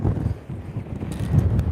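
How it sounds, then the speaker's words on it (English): Gusty wind buffets the microphone outdoors on a lake during a bass fishing outing, a steady low rumbling roar with slight rises and falls and no other clear sounds. "God, it is windy."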